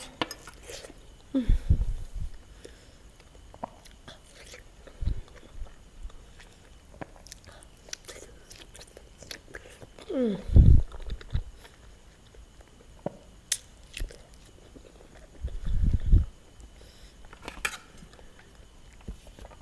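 An apple is bitten several times, each bite a sharp close crunch followed by quiet chewing, with long soft pauses between the three main bites.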